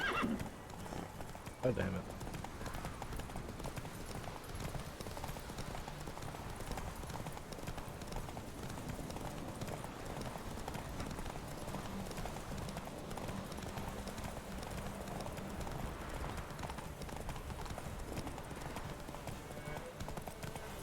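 Roach, a horse in The Witcher 3, gallops with steady clip-clop hoofbeats and an occasional whinny under a continuous game soundscape, while someone talks over the ride.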